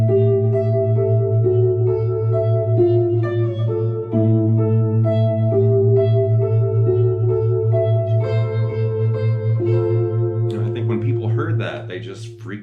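Finger-picked guitar chords repeat in a slow, dreamy pattern with a low drone underneath, steady and close before the notes fade out at the end.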